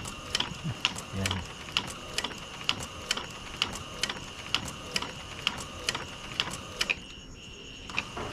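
A printer mechanism runs after a printer head repair, ticking in regular ratchet-like clicks about twice a second over a continuous whir, close and moderately loud, ending in a short quieter tail.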